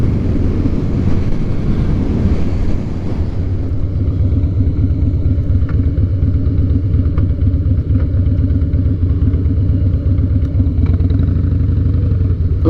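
A Harley-Davidson Night Train motorcycle riding after a spark plug replacement, its engine rumbling loud and close with a steady throb that shifts in pitch about three seconds in as it changes gear.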